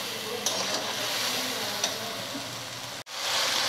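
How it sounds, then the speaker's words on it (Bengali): Potatoes sautéing with spices in a pan for a Bengali mochar dhoka, a soft steady sizzle with faint scraping and stirring clicks, close and fairly quiet. "মশলার সঙ্গে আলুগুলো ভালোভাবে কষানো হয়ে গেছে।"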